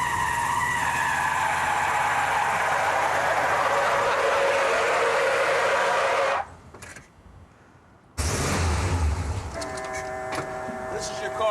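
A fast 1967 Ford Thunderbird roars past loudly with a rushing, skidding sound for several seconds, then the sound drops away almost to silence before a loud rumble and a voice return.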